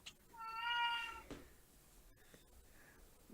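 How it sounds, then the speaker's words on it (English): A cat gives a single drawn-out meow at moderate distance, fairly soft against a quiet room, followed by faint background noise. "The cat."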